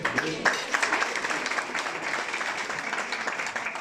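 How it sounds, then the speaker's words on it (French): Audience applause at a Moroccan Jewish community celebration honoring a grand rabbi, a dense, steady wash of many hands clapping in a hall, loud and sustained for several seconds. "Est-ce que ça ne mérite pas un applaudissement?"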